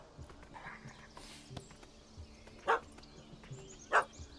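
Two short, sharp dog barks from The Witcher 3: Hearts of Stone, spaced over a second apart, standing clearly above a quiet game ambience with faint background noise.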